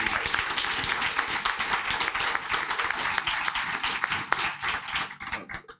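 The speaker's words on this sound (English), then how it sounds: "Can we just please give another warm round of applause to our" An audience at a Socio-Economic Rights Institute and Nelson Mandela Foundation event gives a warm round of applause, dense steady clapping from a nearby crowd that thins into a few scattered claps at the end.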